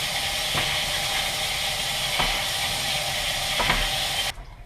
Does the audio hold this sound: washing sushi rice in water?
yes